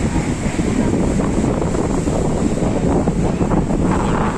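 Rough sea surf at Shankarpur beach roars in a continuous wash of breaking waves, overlaid with strong wind buffeting the microphone, loud and close with no voices.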